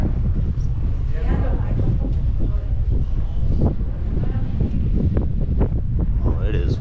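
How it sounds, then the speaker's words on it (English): Strong wind buffets the microphone in the old streets of Rothenburg ob der Tauber in Bavaria, a loud, constant roar with a few brief voices mixed in. "Oh, it is windy today."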